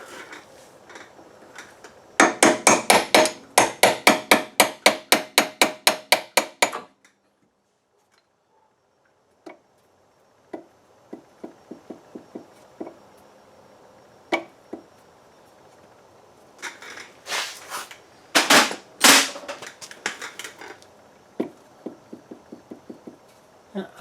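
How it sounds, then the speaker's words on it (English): Hammer tapping a part out of the front end of a 1997 Audi A4 Quattro, heard as two quick bursts of rapid metallic taps with scattered single knocks between them, close and fairly loud in a workshop. "let's see if we can tap this out"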